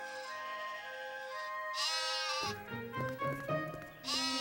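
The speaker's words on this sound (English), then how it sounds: "looking after a flock of sheep up in the hills" Several sheep bleat one after another, wavering calls overlapping close by, with a short pause between bursts and no talking.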